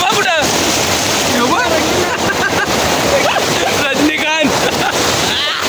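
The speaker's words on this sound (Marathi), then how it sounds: "हा पाण्याचा जेवढा आवाज आहे" A river rushing loudly and steadily at close range, a constant roar of water with voices talking over it throughout.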